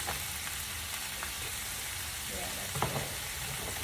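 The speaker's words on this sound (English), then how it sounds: "as the cabbage cooks down on high heat" Cabbage and shredded carrots fry over high heat, giving a steady, close sizzle that holds an even level throughout with a few brief crackles and pops near the end.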